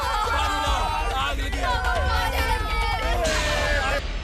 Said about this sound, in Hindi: ये तो गांव वालों की आवाज है।